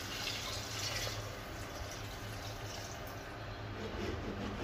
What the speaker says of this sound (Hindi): अब मैं इसके बाद इसमें पानी डालूंगी